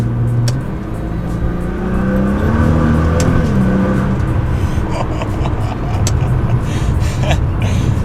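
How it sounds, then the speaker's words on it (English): A new 2014 Nissan GT-R R35 engine rises and falls in pitch through a few downshifts while driving, its loud, steady drone filling the cabin with rev changes clearly audible. "The first official drive in my new Nissan GT-R. A few downshifts."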